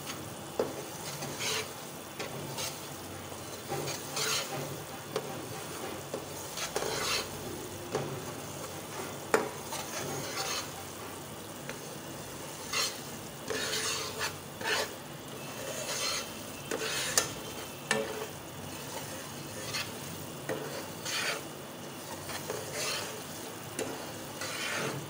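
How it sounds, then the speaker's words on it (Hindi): Semolina (suji) roasting in desi ghee for halwa, stirred without pause, gives a steady soft sizzle under repeated scraping strokes of a spoon across the pan, with no talking. "ये देखें मैं मुसलसल हिला रही हूँ"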